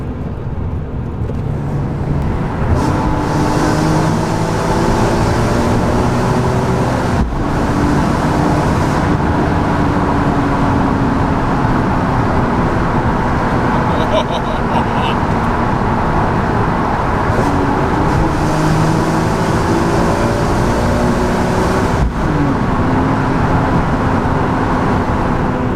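A BMW E46 M3 fitted with a Haywood & Scott exhaust driving through the Hatfield tunnel, giving a loud, continuous engine drone with rising and falling rev sweeps and echoing reverberation throughout.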